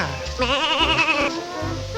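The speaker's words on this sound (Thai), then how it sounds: "มันมีกระดิ่งได้ไงแพะ แพะแองโกลา" Angora goat at an open zoo bleating in one wavering, vibrato cry, loud and close, with brief low rumbles of handling or movement before and after.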